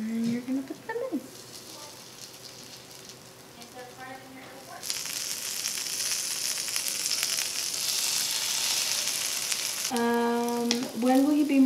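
French toast sticks dipped in batter sizzle loudly in a hot pan, a steady bright frying hiss that swells after they go in, with faint clinks and a soft voice speaking at the start and end.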